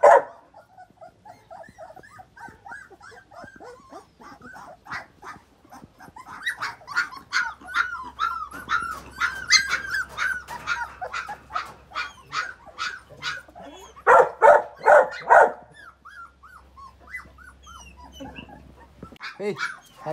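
A litter of newborn puppies whimpers and yips close by. The high, wavering cries overlap in dense clusters that rise and fall, with a few louder squeals near the end.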